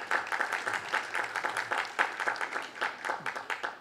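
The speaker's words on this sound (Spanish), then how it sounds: "un aplauso" An audience at a legal lecture gives a welcoming round of applause, a moderate crowd clapping with uneven, overlapping hand strikes at a middling distance, steady for several seconds.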